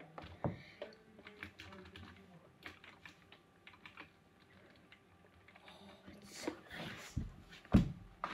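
Typing on a Ducky One 2 Mini mechanical keyboard, a run of close, crisp key clicks in uneven bursts with a few louder thumps near the end.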